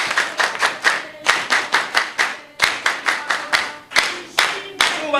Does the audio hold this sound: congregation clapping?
yes